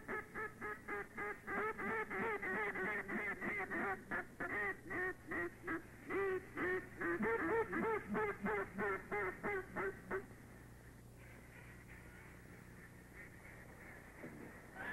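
Wild mallard ducks call in a steady, rapid run of loud, close quacks for about ten seconds, then fall away, leaving a quiet outdoor hush with no talking.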